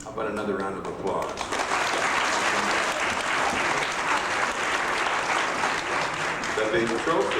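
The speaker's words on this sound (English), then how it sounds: "How about another round of applause?" At a sportsmanship awards ceremony, an audience breaks into sustained, loud applause that holds steady throughout, with a few voices audible over the clapping.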